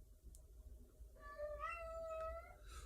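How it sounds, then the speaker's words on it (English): A house cat lets out a single drawn-out meow, rising then falling in pitch, fairly close against a quiet background hum with no talk. "That's how come you see my kitty cat, especially that yellow one you see there."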